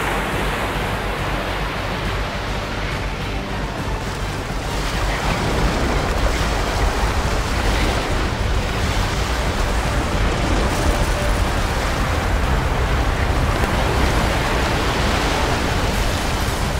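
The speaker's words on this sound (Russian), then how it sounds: "Я должен пережить этот цунами" Loud, continuous roar of tsunami waves crashing in Minecraft, a dense wash of surf-like noise that swells and grows fuller after the first few seconds and holds steady to the end.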